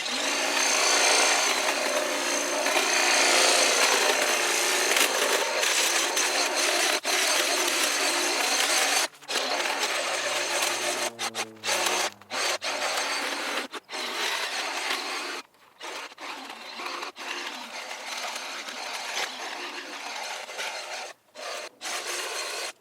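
Greenworks Pro 80V trimmer cutting through tree branches and bushes, a loud continuous buzzing rasp with leafy rustling and brief stops and restarts as the blade moves through growth, no voices.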